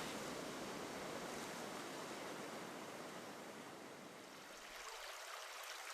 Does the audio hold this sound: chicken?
no